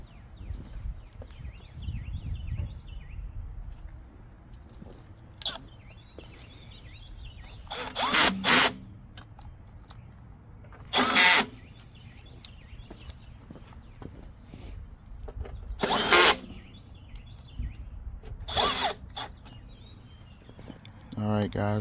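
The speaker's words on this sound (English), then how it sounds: "put the rest of the self-tapping screws back in" A power drill drives self-tapping screws back into a PARKIT 360 unit during a repair, whirring in five short separate bursts of one to two seconds, close and fairly loud, with quiet pauses and faint handling noise between them.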